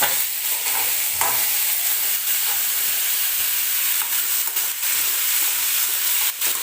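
Tomatoes for an onion tomato chutney stir-fry in a hot pan, a steady close sizzle and hiss broken by occasional scraping stirs of the spatula.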